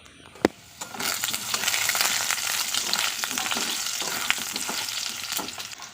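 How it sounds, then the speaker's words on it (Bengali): Potatoes frying in oil in a pan, a steady loud sizzle with crackles and spits, preceded by a sharp clank at the start, close and continuous with no talking. "এখন রান্না হবে চিকেন সেই জন্য সবার প্রথমে আলু ভেজে নিচ্ছিলাম"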